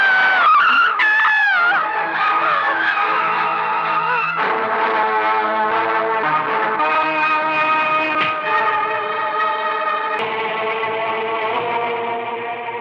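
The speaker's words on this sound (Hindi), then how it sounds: "ड्राइवर, गाड़ी रोको।" A car skids and brakes to a stop, a long tyre screech with a wavering, distorted tone that starts loud and fades slowly over several seconds, with no voices.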